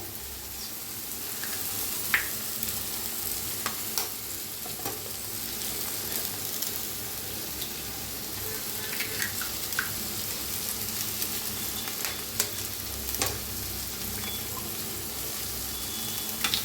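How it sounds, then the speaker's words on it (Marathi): Four cracked eggs fry in a pan for egg fried rice, a loud, continuous sizzle up close with scattered scraping strokes of a spatula throughout and no talk. "तर अंडी भाजून घेऊया"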